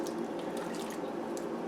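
A can of diced tomatoes being poured into a soup pot gives a soft, continuous wet splashing and dribbling, fairly quiet and close.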